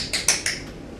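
Three quick, sharp tap dance shoe taps from a time step, close and crisp, with a short rhythmic spacing and no voices.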